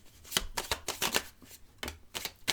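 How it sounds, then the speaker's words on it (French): Tarot cards being dealt into small piles on a table, a series of quick soft slaps and card flicks spaced irregularly, close and fairly quiet, with no talking. "je fais mes petits tas de cartes ici"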